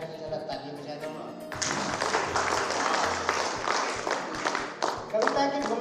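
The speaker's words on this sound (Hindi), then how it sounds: "कविता के लिए जरा ताली बजा दूंगा" An audience at a Hindi poetry recital breaks into clapping for a poem, a full burst of applause swelling after a quieter start and continuing under a speaking voice.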